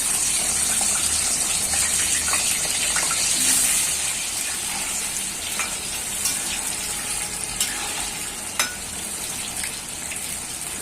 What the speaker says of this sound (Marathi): आता इथे तेल तापत ठेवले, त्याला आपण फ्राय करून घेऊया।